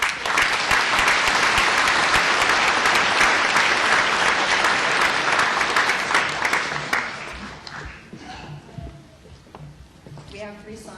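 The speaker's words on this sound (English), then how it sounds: "So give yourselves a round of applause, please." Loud, sustained applause from a crowd at an outdoor Wreaths Across America ceremony in Enfield, Connecticut, fills the first seven seconds, then fades into scattered claps and a quieter room.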